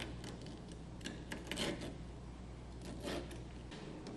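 A blade slices and rasps through convertible soft top fabric on a Mercedes-Benz R129, in quiet, close, irregular scraping strokes with a few brief louder cuts.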